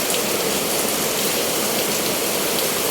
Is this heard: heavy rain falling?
yes